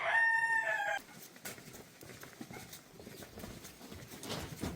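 A Lavender Ameraucana rooster crows once at the start, followed by scattered clucking from two hens, soft thumps and rustling around the yard.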